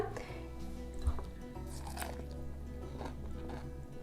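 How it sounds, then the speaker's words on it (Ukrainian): Crisp bites and chewing of pickled zucchini marinated two hours, a few crunchy bites followed by steady chewing, close and fairly faint against a quiet room. "трошки вирішила похрумтіти вам в кадр"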